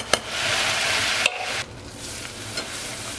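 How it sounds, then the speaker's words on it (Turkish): Flour roasting in butter for béchamel is stirred in a pan, a steady close sizzle with soft scraping strokes and a brief pause midway, no voices. "Unun kokusu çıkana kadar kavuruyorum."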